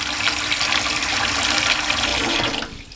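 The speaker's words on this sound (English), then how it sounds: "clean out your sink, run some cold water" Cold tap water runs steadily into a kitchen sink with a loud, continuous splashing rush that cuts off abruptly near the end.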